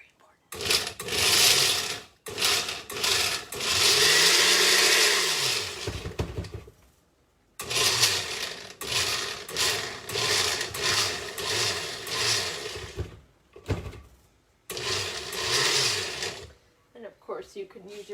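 A kitchen blender blending food for a Somali chicken stew, loud whirring bursts that start, stop and change pitch in several separate runs, with short pauses between them.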